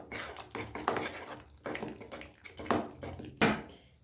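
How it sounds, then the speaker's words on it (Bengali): A spoon stirs cooked semolina in a pot, scraping and clinking against the metal in irregular bursts, close and fairly quiet with no talk. "চামচ দিয়ে একটু নেড়ে চেড়ে নেব।"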